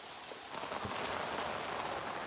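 Heavy rain pouring down on farm fields, a steady, dense hiss of downpour filling the whole stretch, fairly faint and even, with no voices.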